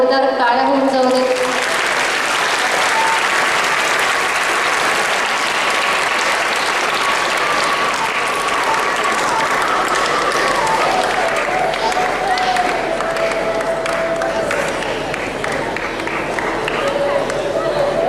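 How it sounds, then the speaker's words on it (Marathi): Loud, sustained applause from a crowd honouring students at a Goa Liberation Day event, steady clapping filling the whole stretch while a voice carries over it. "सर्वांना एकदा जोरदार टाळ्या होऊन जाऊ दे"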